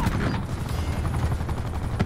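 A helicopter in a multiplayer shooter game chops steadily with rapid rotor thumps, mixed with bursts of gunfire, heard in a continuous dense rhythm.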